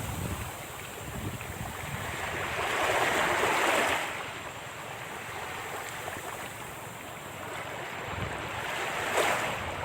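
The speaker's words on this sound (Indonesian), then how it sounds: "Kita lanjut lihat-lihat pantai yang ada di sini." Surf washing onto a Sulawesi beach of ordinary, non-white sand edged by mangroves, a steady wash of breaking waves that swells midway, with wind buffeting the microphone throughout and no voices.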